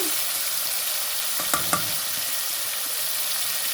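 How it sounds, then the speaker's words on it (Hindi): Mutton meat fries in oil in a kadai with a loud, dense, steady sizzle close by, interrupted briefly by two quick metallic taps. "कढ़ाई में मैंने ऑयल डाल दिया है, अब इसमें डालती हूँ गोश्त।"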